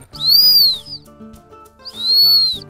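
A hunting-dog training whistle sounds two long, shrill blasts with a gap between them, close and loud, while low tonal hum sits underneath.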